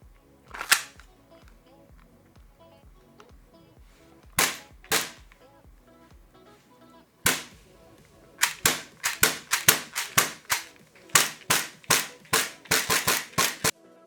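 Tokyo Marui FN 5-7 gas airsoft pistol firing, sharp snapping shots that start sparse and turn into a fast string of about twenty rapid pops near the mic.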